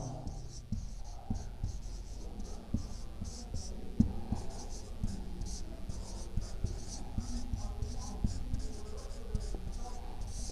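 Pen or pencil writing out maths working on paper during a Class 10 polynomials lesson, giving a steady scratchy texture of short strokes close up, with a low background hum throughout.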